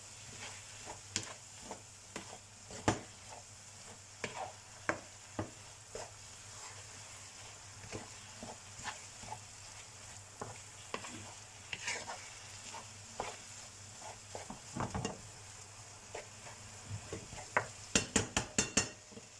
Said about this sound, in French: Je vais mélanger tous les légumes.